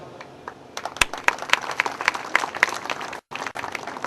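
An audience claps in a burst of applause during a business presentation, loud and close, with sharp individual claps over a dense patter, briefly cutting out near the end.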